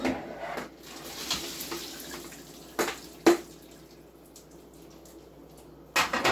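Water from a pot of boxed name-brand macaroni cooked al dente being drained, pouring and splashing into a sink with a few louder clunks of the pot, close and alone.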